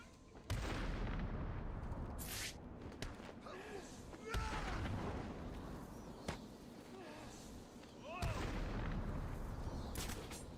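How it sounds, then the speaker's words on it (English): Enemy gunfire in Batman: Arkham City, repeated sharp shots and bursts at close range, fairly loud and irregular, with a voice talking over the action. "I love how they just start shooting."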